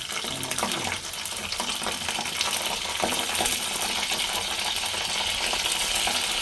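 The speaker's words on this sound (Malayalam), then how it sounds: "ഇത് കടുക് പൊട്ടി വന്നിട്ടുണ്ട്." Mustard seeds spluttering in hot oil in a pan while tomato chutney is made: a dense, steady crackle and sizzle with scattered sharp pops, close and continuous throughout, with no talking.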